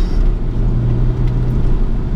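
An SN-95 Ford Mustang GT drives along a winding mountain road, its loud, continuous low engine rumble and road roar heard steadily from inside the car.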